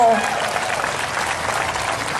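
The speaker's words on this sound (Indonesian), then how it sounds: "Mana tepuk tangannya?" Church congregation applauding at an evangelistic revival meeting in Sibolga: steady, dense clapping that fills the space for a couple of seconds, with a voice briefly heard at the start.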